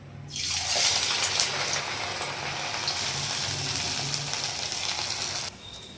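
Corn fritters dropped into hot oil: a steady, loud sizzle starts abruptly and hisses evenly for several seconds before cutting off.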